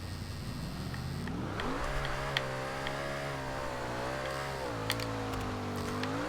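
A 2010 Noble M600 engine in Forza Horizon 2 revs up and holds a strong, steady drone, with rising pitch, gear shifts and a few sharp clicks over the sustained engine note.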